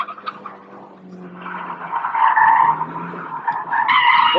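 A Nissan NISMO 270R drifting without the handbrake, its tires skidding and squealing in a sustained, rising screech over engine noise, close and loud, growing stronger through the slide.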